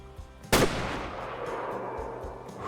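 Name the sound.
rifle shot at an animal in the video game Way of the Hunter 2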